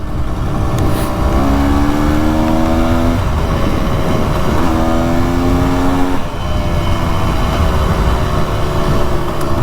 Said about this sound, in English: Vibrates more than any other motorcycle I've ever ridden.